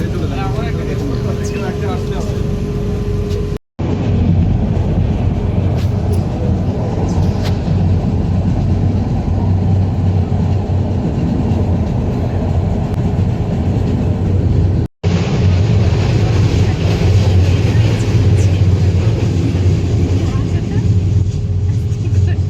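Onboard a train pulling out of an airport station, a loud, steady rumble of wheels and carriage noise runs throughout, with a brief cut twice and faint voices in the background.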